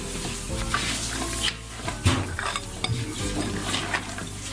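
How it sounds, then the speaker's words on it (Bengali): Tempered beef nihari is stirred in a metal pot, the spoon scraping and knocking against the sides over a low bubbling sizzle. The sound is close and steady, with no talking. "আমি বাগার দিয়ে ফেলেছি, এটাকে আমি নেড়ে চেড়ে"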